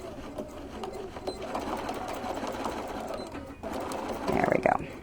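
A sewing machine runs steadily while stitching a holiday bench pillow cover, its fast whirring hum close and continuous, with a brief pause and some faint voice and rustle near the end.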